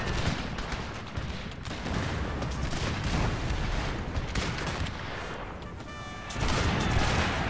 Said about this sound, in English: Good canister shot right there.